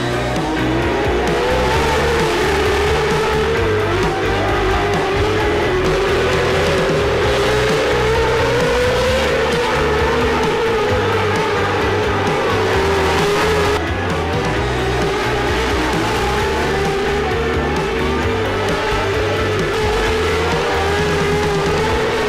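Race car driving a heat race at Millbridge, its engine loud and close throughout, with a continuous roar and shifting pitch, and tires squealing and skidding through the corners.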